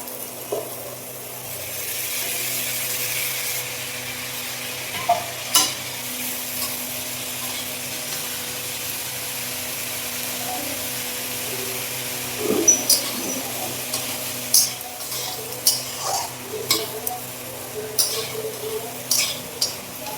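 Boiled chickpeas frying in cooked masala for chana masala, with a continuous close sizzle and intermittent clicks and taps of a spoon stirring against the pan, most frequent toward the end.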